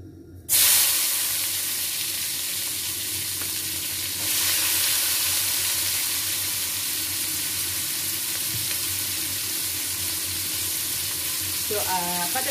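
Sliced onion and paprika frying in hot oil in a pan give a loud, steady sizzle that starts abruptly and keeps up throughout, swelling slightly midway, with a brief clink near the end.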